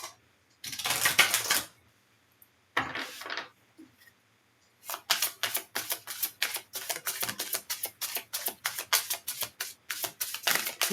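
Slippery playing cards being handled and shuffled up close, heard as bursts of rapid crisp riffling and flicking, then a longer stretch of quick rhythmic card slaps and snaps.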